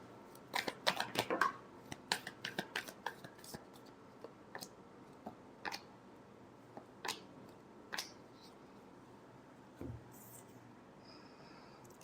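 Tarot cards being shuffled during a reading, heard as a flurry of soft papery riffles and snaps near the start, then scattered single taps and flicks up close in a quiet room.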